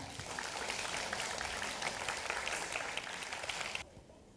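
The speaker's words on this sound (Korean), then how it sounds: "큰 박수 부탁드립니다" Audience at a school reading and debate competition award ceremony applauding prize winners, a dense steady patter of clapping that stops abruptly near the end, leaving quiet room tone.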